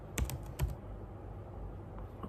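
A few quick close keystrokes on a computer keyboard, typed into a web browser, with a short burst near the start and then quiet room tone.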